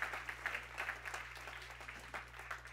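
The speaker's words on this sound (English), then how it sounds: "That deserves a hand clap." A church congregation claps hands together in a steady, moderately distant round of applause lasting a few seconds before fading.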